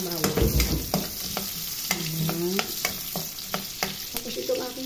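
Garlic and onion sautéing in rendered pork fat in a pan, a steady close sizzle with repeated stirring scrapes and clinks.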